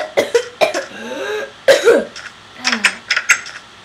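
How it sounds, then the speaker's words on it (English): A single person coughs loudly and close up several times in broken bursts, with a throat-clearing quality, while playing Minecraft co-op. "the cough was real"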